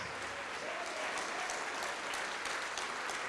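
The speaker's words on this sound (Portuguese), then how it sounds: "vamos aplaudir mais" A church congregation at a Renovo Hoje worship service claps continuously in a thick, even wash of applause, heard at a low level throughout.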